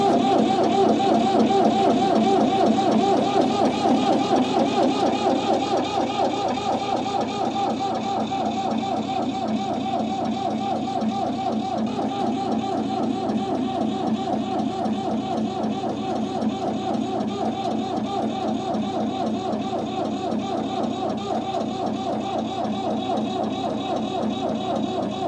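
Ford 3000 diesel tractor without glow plugs cranking on a cold start, giving a steady, rhythmic, laboring starter churn that continues without catching, moderately loud and close.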